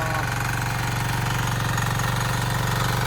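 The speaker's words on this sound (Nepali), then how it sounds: "लास्ट गाह्रो हुँदो रहेछ ट्र्याक्टर जोत्ने" Tractor engine running steadily while ploughing a field, a loud continuous low throbbing drone with regular pulsing, close and unbroken, with no voices.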